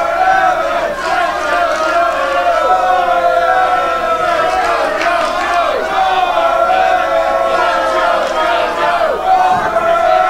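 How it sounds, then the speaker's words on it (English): Defiant crowd at an independent professional wrestling show chanting and shouting in loud, sustained unison waves that rise and fall in rhythmic bursts, with commentary voices faintly mixed in. "Crowd very defiant, very adamant."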